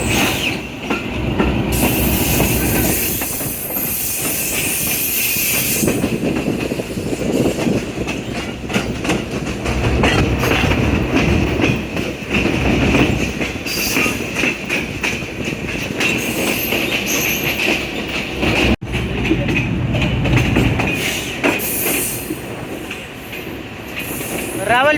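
Diesel railcar on the Rawalpindi section, decorated like a bride for its inaugural run, rumbling loudly past nearby for the whole stretch with rattling wheels and a brief squeal near the end; a voice talks over it.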